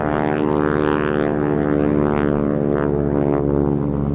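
A T6 propeller aircraft engine roars steadily at full power on takeoff, its deep harmonic drone holding strong and close with no talking.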